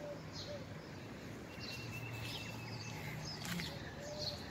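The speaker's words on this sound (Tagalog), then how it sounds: "Yung mga ibon, masasaya pa ngayon." Birds calling and chirping beside a lake on a warm late afternoon, faint, scattered calls over a steady background hiss, with a dove-like coo at a distance.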